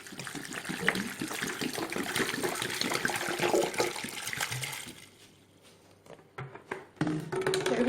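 Water is poured from a container into a pot of homemade honey syrup, a loud continuous splashing gush for about five seconds that cuts off into quiet dribbles and light clinks, then resumes briefly.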